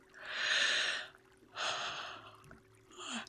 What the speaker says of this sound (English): another yawn